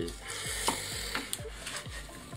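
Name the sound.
stirring green olives mixed with ash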